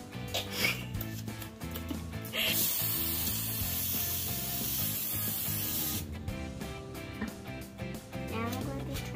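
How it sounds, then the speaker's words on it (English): A steady hiss of cooking spray onto a pan lasts a few seconds, heard over background music and a voice talking. "Now I'm going to spray my pan because my fish doesn't stick."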